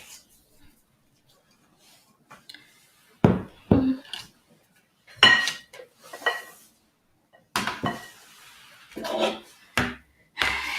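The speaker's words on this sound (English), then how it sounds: "I'm just scraping down the sides of the bowl again" Spatula scraping and knocking around the sides of a mixing bowl of chocolate chip cookie dough, scattered short clacks and scrapes separated by quiet gaps, close and fairly clear.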